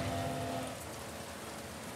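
Steady rain hiss in the video game The Last of Us Part I fills the background, soft and continuous, with a faint low tone fading out early on.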